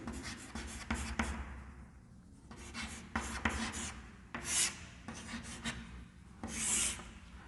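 Pen writing on paper during a statistics lesson, with quick close scratchy strokes in short bursts separated by brief pauses, faint and alone.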